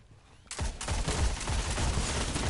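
MIDA Multi-Tool scout rifle fire in a Destiny Crucible match, a fast steady stream of loud, close shots that starts abruptly and continues without a break.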